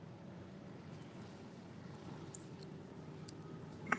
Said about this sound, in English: That sounds like a boat coming now.